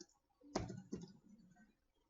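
A few soft, faint clicks on a computer keyboard while a web search is typed, with only two clear keystrokes standing out in a quiet room.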